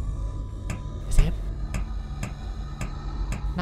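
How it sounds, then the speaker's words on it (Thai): Footsteps in the co-op horror game Creepless, a steady series of evenly spaced thuds, about one every half second, set over a low droning ambience with voices talking throughout. "นั่นคือเสียงเดิน"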